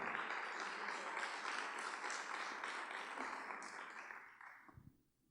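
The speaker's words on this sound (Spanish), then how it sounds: "dale un fuerte aplauso al Señor" A church congregation applauds during a midweek Bible study service, sustained clapping from a crowd that holds steady, then gradually fades and stops near the end, leaving quiet.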